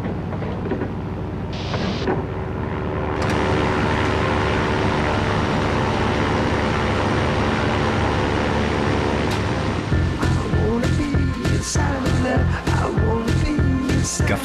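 A propeller airplane comes in to land with a steady, loud droning engine that holds for several seconds. It then gives way to a quicker rhythmic pulsing in the last few seconds.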